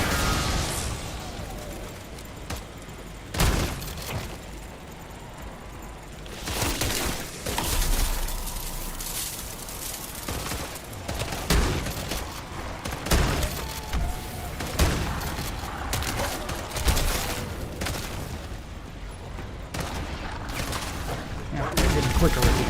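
Single pistol shots ring out in a first-person shooter, sharp loud cracks spaced irregularly, some in quick pairs, over a busy game backdrop with occasional talk.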